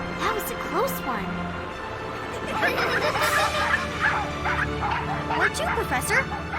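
Several cartoon puppies yip and bark excitedly in quick overlapping bursts, close and lively, with whimpering yelps mixed among high voices.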